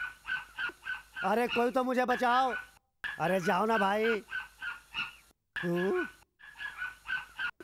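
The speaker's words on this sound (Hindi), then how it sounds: "ये कुत्ता क्यों भौंक रहा है?" A dog barks in short repeated bursts in a dubbed Hindi action movie, while panicked voices shout over it.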